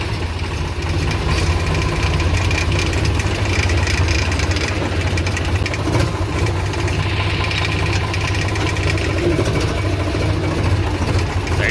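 Farm tractor engine running steadily at a low idle, a loud continuous rumble with vibration that holds without pauses for about twelve seconds.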